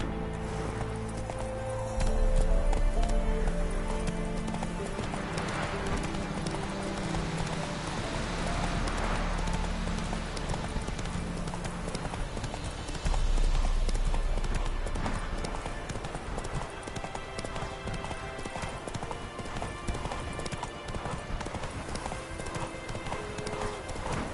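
Hooves of the horse in The Witcher 3 on PS4 clip-clop in a steady rhythm at close range over game ambience, with an occasional whinny and faint talk in places.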